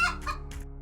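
A chicken clucking in a dungeon crawler video game, two or three short clucks in quick succession, clear and close with no talk.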